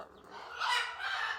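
Pet parrots give a short, harsh squawking call of rising intensity in a home, fairly faint and over in about a second.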